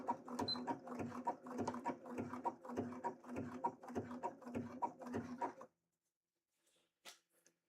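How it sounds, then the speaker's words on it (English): Sewing machine stitching a zigzag stitch on a cosplay costume piece, with a fast, rhythmic mechanical chatter in short even pulses for about six seconds before stopping, then a faint click. "So I'm just going to go with a regular zigzag stitch and we'll see how that does."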